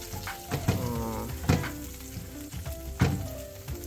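Peanut and coconut chutney sizzling in a pan over a slow flame, a steady close crackle broken by a few louder stirring scrapes, no voices.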